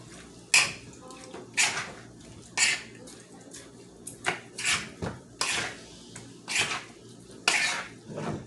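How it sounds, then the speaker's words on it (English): Utensil scraping and clinking in a bowl while mixing food for jerk chicken, a series of irregular scraping strokes and knocks, close and moderately loud over faint background noise. "We're just gonna mix that up. Mix it all together."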